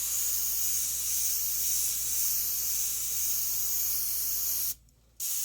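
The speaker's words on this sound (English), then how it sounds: "I'll do here is spray this extra light right in here." Steady airbrush or spray-can hiss as light paint is sprayed onto a Corvette image on Claybord, a continuous close rush of air that cuts off briefly near the end before resuming.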